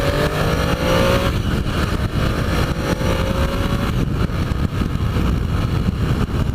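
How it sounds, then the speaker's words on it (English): A Triumph Tiger 800 triple-cylinder motorcycle accelerates, its engine pitch rising with a faint whistle over heavy rushing wind and road noise, loud and continuous. "love that little whistle that the Triumph triples have"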